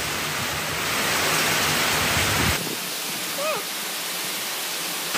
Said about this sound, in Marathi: पाऊस येऊ राहिला आहे